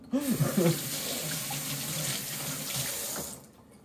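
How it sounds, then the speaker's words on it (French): A faucet runs steadily and close by as a shaker is rinsed under it, a continuous loud rush of water with a few clinks at the start, tapering off at the end. "Je vais le rincer."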